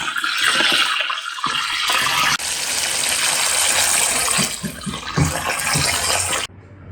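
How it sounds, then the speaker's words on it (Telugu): Chicken pieces deep-frying in hot oil give a loud, steady sizzle and hiss that holds for several seconds, close to the pan, with no talking. "ఆయిల్ కాగింది కదండి, ఈ చికెన్ అందులో వేసి బాగా డీప్ ఫ్రై చేసుకున్నాం"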